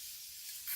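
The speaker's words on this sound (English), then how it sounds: "Oh, my water spray. I've got this water spray." A short, soft hiss of a water spray bottle misting, a quick burst near the end of a faint background, in 40-degree heat.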